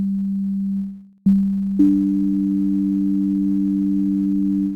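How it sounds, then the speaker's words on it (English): A pure, steady electronic tone from a VCV Rack synthesizer module fades out, cuts back in with a sharp click, then jumps to a second layered pitch that holds evenly until a soft fade at the end. "Try the other noise tones here."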